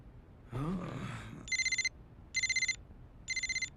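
A cell phone rings in three short electronic bursts at regular intervals, clear and moderately loud, after a breathy sigh-like sound.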